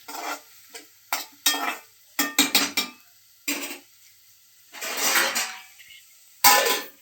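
Salt being stirred into rasam in a pot: a close series of short scraping and clinking strokes from a spoon against the metal, irregular, with quiet gaps between bursts.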